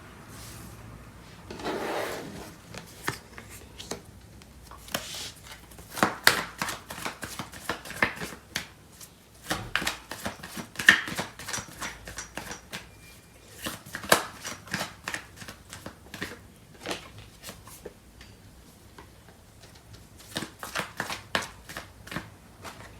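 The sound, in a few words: shuffling tarot cards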